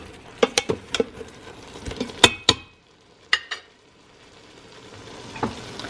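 Boiled pork ribs are stirred into sinigang in an Instant Pot, with several sharp clacks and scrapes of a utensil against the metal pot in quick bursts, then a near-silent pause and one last soft knock.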